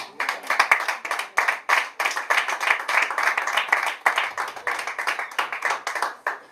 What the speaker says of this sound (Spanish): Quiero que le den un fuerte aplauso al Señor.